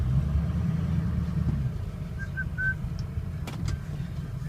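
A truck's engine idles with a steady low rumble as it is shifted through four-high into drive, a few faint whistles and brief clicks rising over the continuous drone.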